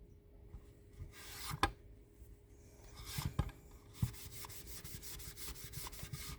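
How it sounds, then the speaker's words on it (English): Sandpaper rubs against wooden furniture in uneven strokes, then settles into a quick, steady back-and-forth rhythm, with a few sharp knocks; close and fairly quiet. "Yep, sanding it down"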